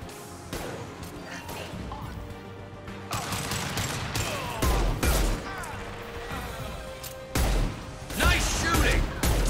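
Gunfire during Mass Effect 2 combat on Korlus: loud irregular volleys of shots and impacts, bursts clustered and separated by brief pauses, with a voice speaking amid the firefight.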